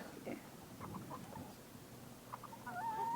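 Farm hens clucking on a farm, including a small game bird pecking at newer flock members, with a few short clucks and squawks close by.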